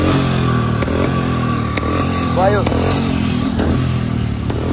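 A Royal Enfield Bullet motorcycle engine idles roughly with misfires, its steady close thump broken by irregular pops and stumbles, while someone talks over it.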